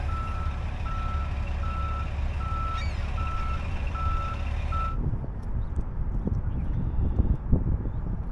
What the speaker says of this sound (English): The bus gotta continue and continue to back up